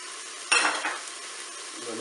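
Spaghetti forestière with parsley and chives stirred in a Cookeo multicooker: a sudden scraping stir over a soft sizzle, then fading back to the gentle hiss of cooking, with a faint low hum at the end.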